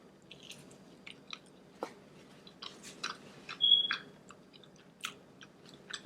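Close, quiet chewing of homemade melted vegan cheese: soft, wet smacks and small squishy bites scattered irregularly over a few seconds, with a low background hum and no talking.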